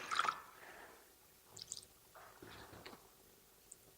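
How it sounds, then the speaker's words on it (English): Water stirred into paint with a stick while mixing urn paint gives faint, wet squishing and dripping sounds, a brief louder splash at the start followed by soft scattered stirring noises, quiet and close. "I'm going to basically add just a touch of water just to loosen the paint"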